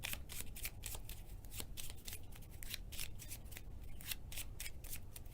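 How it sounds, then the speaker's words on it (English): A deck of cards is shuffled during a tabletop board game, giving a soft, continuous riffling rustle with rapid flicks, faint and close. "So shuffle the deck into the discard pile and then scout 2."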